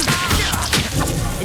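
A sharp whooshing crack of the Expelliarmus disarming spell cast in Hogwarts Legacy combat, loud and close, with brief impacts and swishes layered in game effects.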